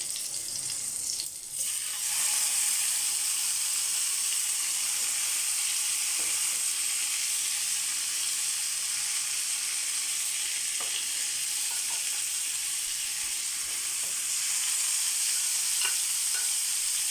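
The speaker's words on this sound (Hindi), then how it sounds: "ग्रिल पैन में मैंने हल्की सी ऑयलिंग कर ली है और इसके बाद चिकन को हम पीसेस को ग्रिल पैन पे रखते जाएंगे।" Chicken tikka pieces sizzling on a lightly oiled grill pan, a steady bright hiss of frying with a brief clatter early on and faint ticks as pieces are set down.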